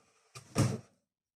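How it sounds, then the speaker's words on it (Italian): A stack of two cardboard boxes waiting to be thrown out topples indoors, one box falling off: a brief scrape, then a single dull, close thud with a short rustling tail, fairly quiet, with no talking. "Avevo due cartoni impilati uno sopra l'altro che erano lì per essere buttati e uno dei due semplicemente è caduto"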